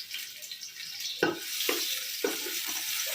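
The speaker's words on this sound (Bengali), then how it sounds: "তেলটা একটু গরম হয়ে গেছে, আমি পেঁয়াজ দিচ্ছি।" Onions are dropped into hot white oil in a pan, setting off a steady hiss and sizzle broken by several sharp stirring clatters, close and fairly loud with no talk.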